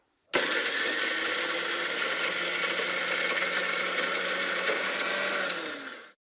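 Smoked Maldive fish is ground to a fine powder in an electric grinder, which starts suddenly and runs as a loud, steady, high whine for about six seconds before winding down.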